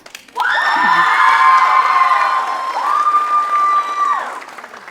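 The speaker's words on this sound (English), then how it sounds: "One more round of applause." A crowd at a Bharatanatyam dance debut bursts into loud applause mixed with sustained cheering and shouts, holding steady for several seconds before easing off.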